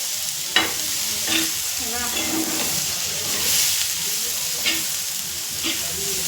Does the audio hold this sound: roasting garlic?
yes